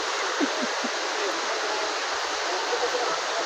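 Clear river water flowing steadily at an outdoor outing spot, a continuous broad rushing wash close by, with a few faint voices briefly in the background.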